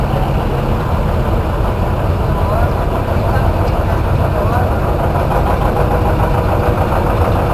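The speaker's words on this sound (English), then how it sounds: "Next up we have Tommy Florence on a 1953 WD 45 Alice Chalmers" A 1953 Allis Chalmers WD45 tractor engine runs loud and steady at a tractor show, a constant rumbling drone close to the microphone with no pauses.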